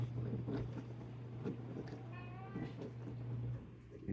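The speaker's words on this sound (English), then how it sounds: "meowing at me because I'm not paying attention to him" A cat meows a few times, faint and nearby, over a low steady hum and soft background noise.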